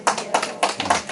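About four sharp handclaps ring out in an even rhythm at a casual study gathering in Seoul. They are close and moderately loud, and no one speaks over them.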